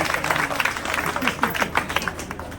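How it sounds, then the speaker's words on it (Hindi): A crowd at an Indian election rally claps for a speaker being welcomed, a dense patter of hands, fairly quiet and steady for a couple of seconds. "एक बार जोरदार तालियों से खोवा जी का स्वागत।"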